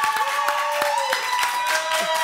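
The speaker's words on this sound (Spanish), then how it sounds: "¡otro aplauso, por favor! Un aplauso para él" A studio audience applauds steadily for a guest, a continuous wash of clapping with someone talking over it throughout.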